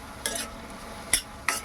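Green chillies and onions frying in oil in a pan for a prawn curry, a low steady sizzle broken by three quick scraping stirs.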